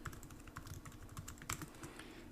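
Rapid, uneven clicking of keys on a computer keyboard, close and fairly quiet, with a steady low hum underneath and no voices.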